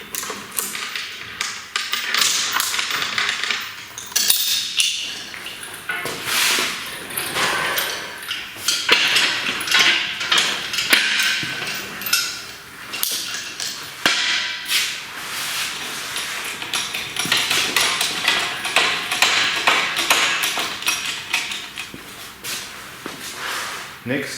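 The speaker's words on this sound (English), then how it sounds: "Next step is just to gently tap on the ends." Someone gently taps a tool on the ends of an outboard motor's mounting bolts while the motor is lifted slightly. The taps come as a steady stream of sharp, close metallic knocks for the whole stretch, with some faint background noise.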